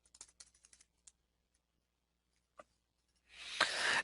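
Scattered keystrokes tap on a computer keyboard at a retail point-of-sale setup, a quick burst of clicks followed by a lone tap after a pause, then a rising wash of broadband noise at the end.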